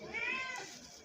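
A Persian cat gives a single drawn-out meow, faint and somewhat distant, as if calling from a rooftop, with a rising then falling wail and light background noise.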